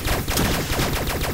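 Rapid automatic gunfire from a weapon in the Starbound video game, a dense run of repeated shots firing continuously and loudly throughout, with no pauses or voices.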